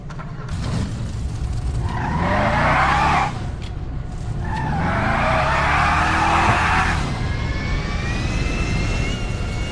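Car engine revving hard with tires skidding and squealing in two long loud bursts over a steady roar, a sports car in a private collection with an airport nearby.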